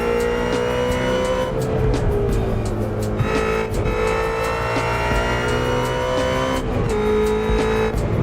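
A 770 hp Ford Mustang GT350 driving through traffic in Assetto Corsa gives a continuous loud engine drone that rises and falls with gear changes, plus hints of tire squeal.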